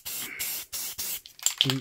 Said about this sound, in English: periodically shake your can while you're spraying